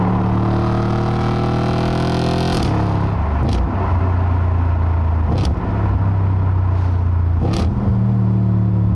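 A 2012 Audi RS5 V8 accelerates hard on an open road. Its loud, deep engine roar climbs steadily through the revs, and several quick gear shifts briefly cut the drone before it rises again.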